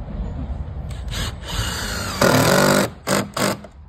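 Power drill driving a screw into the timber of a wooden footbridge, with a rising whir that swells into a loud sustained burst and then two short final pulses, heard alone.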